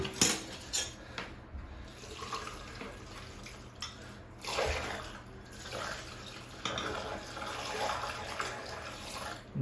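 Hot water is poured down a stinky kitchen sink drain, a steady splashing wash with clinks of dishes or cutlery, moderately quiet and close, with no talking.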